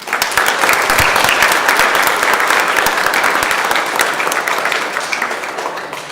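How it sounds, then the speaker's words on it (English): Steady, dense applause from a large crowd on a state Senate floor, loud and sustained throughout without any talking. "give them a big round of applause"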